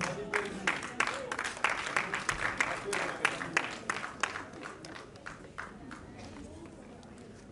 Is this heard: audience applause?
yes